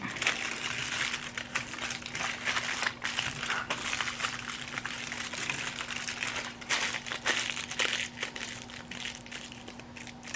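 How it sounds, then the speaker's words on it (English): Tin foil crinkles and crushes steadily as it is squeezed tightly around a craft dragon egg, a loud, continuous rustle close up. "take one of your sheets of tin foil and we're just going to wrap our egg up in it"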